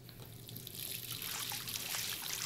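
Water running in the Life is Strange video game, a soft steady trickle like a tap pouring into a sink, close and quiet, growing slightly louder toward the end with no voices.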